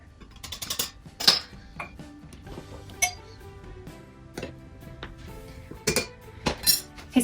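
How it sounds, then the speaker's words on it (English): Gluten-free snickerdoodle cookie dough being stirred in a bowl, with scattered clinks and scrapes of utensil against the bowl at an irregular pace, close and fairly quiet. "And then I just like to give it another stir in between each scoop."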